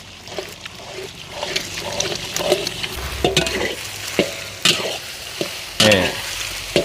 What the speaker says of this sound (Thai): เราจะเจียวไข่ก่อนนะขยี้ไข่ในกระทะแบบนี้ได้เลย